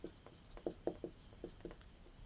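Writing on a board during a maths class on circles, a faint, close run of short scratchy strokes in an uneven rhythm, with no speech over them.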